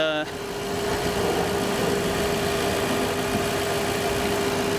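A car engine idles steadily with a thin, constant whine from the power steering pump sitting above the low rumble. A person talks over the running engine throughout.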